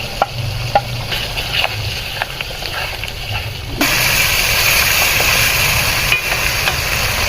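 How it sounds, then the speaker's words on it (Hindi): Ghee and tomato paste frying in a pot for mutton paya, a steady close sizzle that grows louder and fuller partway through, with a few faint clinks of stirring over it. "अभी हम इसमें घी डाल देंगे, करीब 1 प्याली। टमाटर पेस्ट डाल लेंगे"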